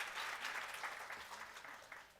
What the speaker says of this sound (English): A louder applause, please.